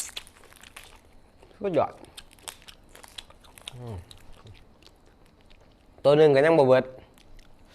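Crispy home-style roasted chicken being bitten and chewed, with a few crunchy bites spread between bursts of Thai speech and a loud voiced exclamation near the end.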